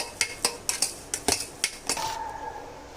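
Spoon scraping and clinking against a pan while moong dal barfi mixture is stirred, a quick run of sharp metallic knocks at a steady rhythm, close and fairly loud, tapering to a softer ringing tail.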